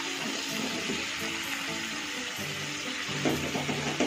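Drumsticks and potatoes are stirred into a sizzling curry gravy, giving a steady wet hiss and bubbling throughout, with some clinks and scraping near the end.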